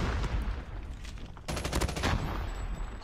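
Gunfire in a Call of Duty match, with a RUS-79U SMG among the weapons: bursts of rapid shots crackle over a busy game mix, growing denser and louder in the second half.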